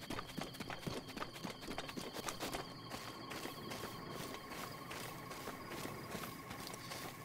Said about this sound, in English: Oh, great,